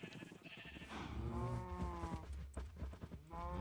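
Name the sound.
cows mooing in the video game Minecraft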